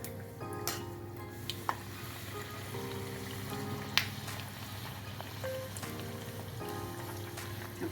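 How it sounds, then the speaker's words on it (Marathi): Puris deep-frying one by one in hot oil give a faint, steady bubbling sizzle with a few soft ticks and pops scattered throughout. "एक एक पुरी करून तळून घ्या."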